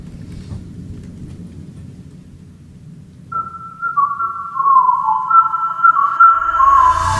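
A whistled melodic hook in a song comes in partway through after a quiet, low rumbling intro. The clear whistled tune then carries on over a fuller backing that builds toward the end.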